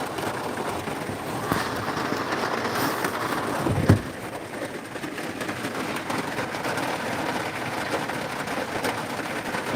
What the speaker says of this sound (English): is that rain bothering y'all? Is that rain too loud?